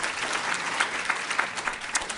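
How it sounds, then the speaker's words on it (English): At a BRICS conference session, an audience gives steady applause for South Africa's Minister of Trade and Industry, with the continuous clapping of a crowd filling the room at moderate loudness. "Please a big round of applause for the Minister"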